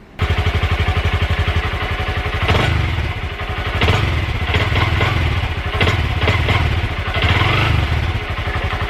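A 2025 Honda Grom (MSX125) engine idles steadily up close while warming up, a low rhythmic chugging throughout with occasional mechanical clatter and small revs.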